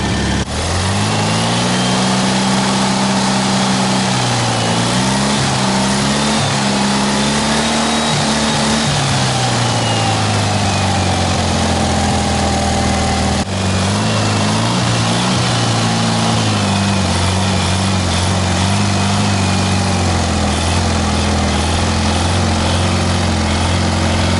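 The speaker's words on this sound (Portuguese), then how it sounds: "Eu vou deixar ele acelerado assim agora por pelo menos 15 ou 20 minutos, para ele atingir uma boa temperatura aí" The air-cooled engine of a 1975 VW Beetle runs loud and close at a held high idle to warm up, a continuous rough drone whose pitch wavers slightly throughout.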